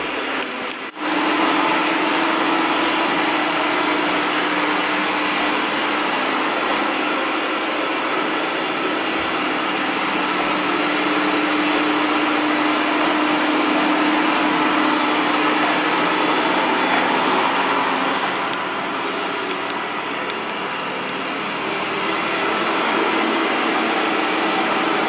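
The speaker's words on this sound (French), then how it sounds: "il est en train de faire son premier cycle d'aspiration" A robot vacuum cleaner runs its vacuuming cycle in vacuum-only mode, a loud steady whirring drone that stays constant and close for the whole stretch, with no talk.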